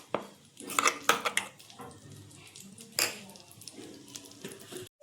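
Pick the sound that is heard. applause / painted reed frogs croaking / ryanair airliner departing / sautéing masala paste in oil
sautéing masala paste in oil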